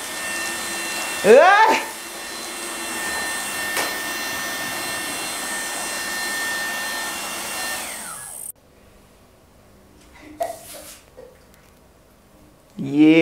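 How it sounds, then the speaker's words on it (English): A household vacuum cleaner in a dusty home runs with a loud steady whine and then cuts out, leaving quiet with a few short bursts of talk. "if I want to vacuum over here"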